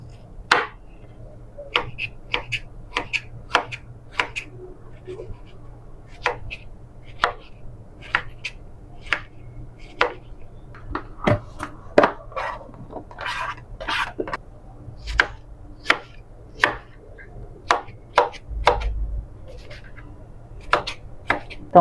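Knife chopping strawberries on a cutting board for a chocolate strawberry cake, a steady series of sharp, close taps with short pauses between bursts, over a low background hum.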